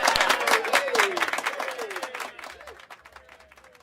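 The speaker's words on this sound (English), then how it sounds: "we gotta give a round of applause for that" Studio audience applause during a fantasy football talk show, a steady wash of clapping that gradually fades, with voices talking over it.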